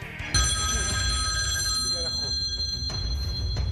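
A telephone bell rings loudly and steadily in a television studio, its bright repeating tone running under studio noise for several seconds.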